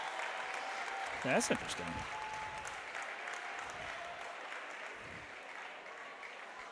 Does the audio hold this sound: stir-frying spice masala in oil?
no